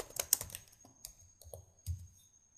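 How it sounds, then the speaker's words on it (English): Keystrokes on a computer keyboard while entering a group name in Microsoft Word 2010, a quiet, irregular run of close clicks and taps, several in quick succession with brief pauses between. "Type in the group name."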